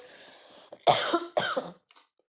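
A person coughs twice in close succession, two harsh, loud bursts following a quiet breathy start, then silence.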